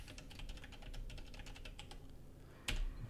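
Rapid key clicks from a computer keyboard, typed at a steady pace with close, crisp individual strokes, ending in a sharper single tap.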